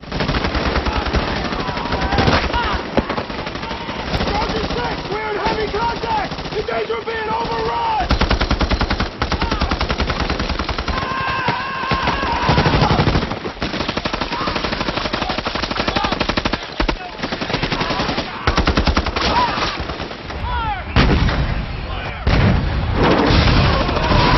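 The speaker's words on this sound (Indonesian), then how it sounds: "langsung berubah dengan baku tembak yang begitu mengerikan" Relentless machine gun fire and explosions from a Vietnam War film battle between American troops and Vietcong, loud rapid bursts and booms packed densely throughout with shouting voices mixed in.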